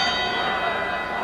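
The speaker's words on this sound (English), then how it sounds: "The bell for second round action here in the Providence Civic Center" A boxing ring bell rings out steadily to start round two of the Sugar Ray Leonard vs. Floyd Mayweather Sr. bout at the Providence Civic Center. The loud, sustained metallic tone carries over arena ambience.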